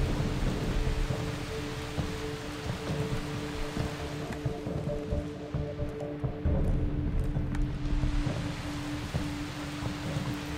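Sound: rain and thunder in video game Far Cry 3

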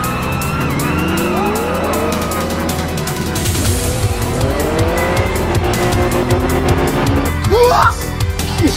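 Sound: Sileighty car accelerating at full throttle on mountain pass

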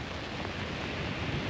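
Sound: rain falling at the beach

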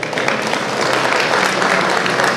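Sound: audience applause

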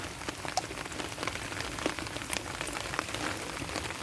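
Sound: rain falling

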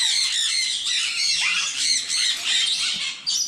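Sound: sun conure squawking

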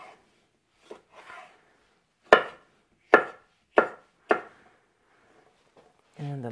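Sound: knife chopping vegetables on a cutting board

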